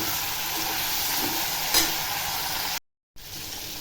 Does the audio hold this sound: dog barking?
no